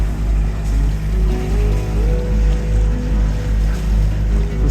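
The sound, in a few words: sailboat sailing at sea at sunrise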